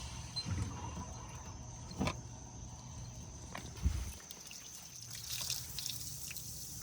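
Water draining and dripping from a garden hose during a Datsun 280Z restoration, a faint steady trickle with a few louder drips, heard close and quiet with no talk.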